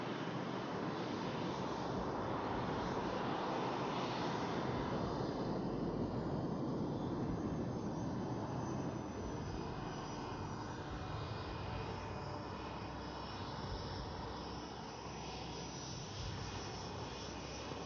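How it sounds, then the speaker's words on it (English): A Sukhoi-30 MKI fighter jet flies a display at the Aero India 2021 air show, its engine roar loud and steady throughout, easing slightly toward the end, with no voices heard. "it is also time for that wonderful performance by the mighty Sukhoi-30 MKI"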